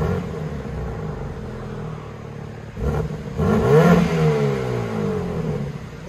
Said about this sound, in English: 2022 BMW M3 competition. This is what it sounds like before.